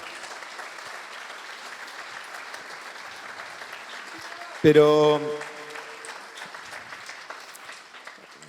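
Applause from an audience at a political speech, a continuous spread of many hands clapping at moderate distance, briefly interrupted by a loud tonal interjection partway through.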